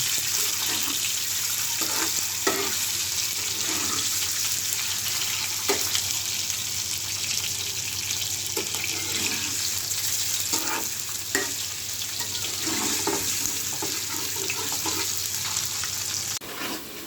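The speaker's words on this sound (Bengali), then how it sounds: "ডিমটা তেলের উপরে আগে থেকে ভেজে নিচ্ছি" Boiled eggs fry in hot oil for an egg korma, giving a loud, continuous close-up sizzle and crackle with occasional stirring knocks throughout.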